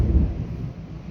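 Thunder from an approaching storm rolls briefly as a deep, low rumble, moderately loud, with no voices over it, as Hurricane Laura bears down on Texas and Louisiana.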